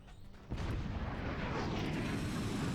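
Cannons boom in a chaotic video game battle, a sudden heavy blast opening into a dense, rumbling roar of continuous fire and debris that fills the scene.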